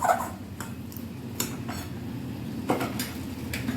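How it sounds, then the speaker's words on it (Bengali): Ridge gourd vegetable curry stirred in a pan, a spatula scraping and tapping the metal in irregular strokes over a steady low background hum, close and clear with no talking. "একটু ভালো করে এটাকে নাড়াচাড়া করে নিচ্ছি"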